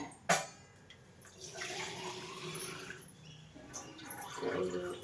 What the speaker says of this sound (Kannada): ನಾನು ಇಷ್ಟು ಗ್ಲಾಸ್ ನೀರು ಹಾಕ್ತೀನಿ